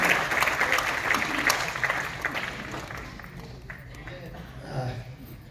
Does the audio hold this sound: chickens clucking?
no